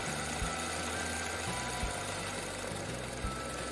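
An embroidery sewing machine works flat satin stitches, its widths set by a knee lever. It gives a steady mechanical whir with low rhythmic thumps recurring every second or so, close up and with no voices.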